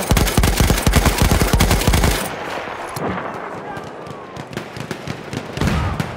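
Video game machine gun firing in a rapid, loud burst of close shots for about two seconds, then distant scattered gunfire and battlefield noise.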